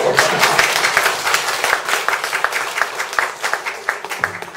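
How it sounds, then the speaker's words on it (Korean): A congregation at a Korean sermon gives a round of applause: loud, close clapping with distinct individual hand claps that continues for about four and a half seconds, tapering slightly toward the end. "이쪽 박수 한번 치세요"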